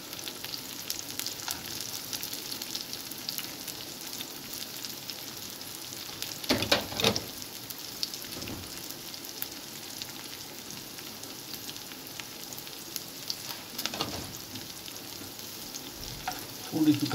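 Shredded cabbage and other vegetables sizzle in a hot pan while being stir-fried for Chinese rice. A soft, continuous hiss carries throughout, and a few louder scrapes and tosses of the spatula break through it along the way.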